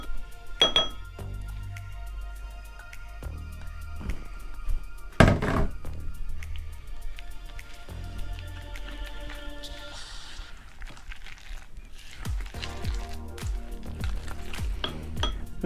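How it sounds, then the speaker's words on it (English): Crab meat and breadcrumbs are stirred into an egg and mayo mixture in an RV kitchen, making soft mixing sounds with scattered utensil clinks and thunks against the bowl. "I've incorporated the breadcrumbs, the crab meat to the egg mixture with the mayo"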